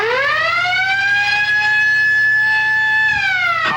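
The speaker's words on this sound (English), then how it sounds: "the burglar alarm system will go off" A burglar alarm system sounds a loud, steady electronic siren tone that holds a single high pitch for several seconds, then drops briefly near the end, with a low hum running underneath.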